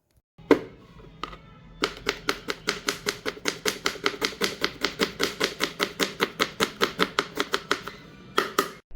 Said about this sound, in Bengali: ধনেপাতা এবং পেঁয়াজটা কেটে নিচ্ছি।